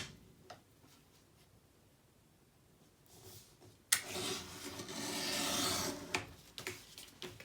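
A small paper tag is trimmed off a scrapbook page, with faint ticks and scrapes at first, then a louder rasping cut of a few seconds and a couple of soft clicks, all close and quiet.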